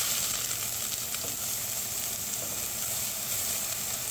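Onions sizzling in olive oil over high heat, a steady, close, fairly loud frying hiss with fine crackle throughout and no voices.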